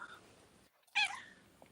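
A house cat gives one short, clear meow indoors after a brief silence, standing out against a quiet room background.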